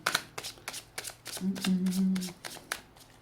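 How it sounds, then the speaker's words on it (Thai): A deck of tarot cards being shuffled by hand, with repeated crisp riffling bursts in a steady rhythm, close and fairly quiet. A short low hum runs under the middle of the clip. "ขออนุญาตสับสับสับนะครับ"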